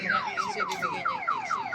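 A car alarm on an L300 diesel van warbles in quick repeating falling sweeps, about seven in a row, loud and nearby with no talking.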